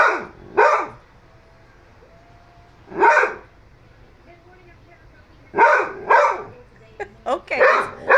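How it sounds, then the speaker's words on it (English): A dog barks in close, loud bursts, a pair of barks, then a single bark, then several more in quick succession, separated by quiet pauses. "Okay, that's enough. Enough barking."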